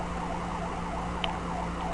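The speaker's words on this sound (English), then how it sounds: "this one has different sirens, of course, because it is a ambulance" Ambulance siren from the video game Lego City Undercover, a steady wailing electronic tone that loops evenly over a constant low engine hum, loud and close, with a single brief click partway through.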